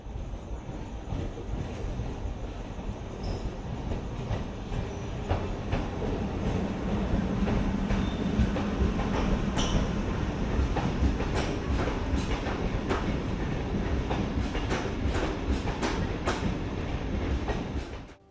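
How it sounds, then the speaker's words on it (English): The Kaveri Express passenger train, an ICF coach rake, rumbles past at close range as it arrives at a station in India, with steady heavy rolling noise, rhythmic wheel clicks over rail joints and faint metallic squeals. "Kaveri Express arrived next."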